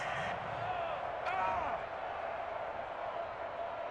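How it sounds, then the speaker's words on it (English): Stadium crowd at an NFL game between the Dallas Cowboys and New York Giants reacting to a roughing-the-passer penalty, a loud, steady roar that swells briefly and then holds. "this crowd does not like that call"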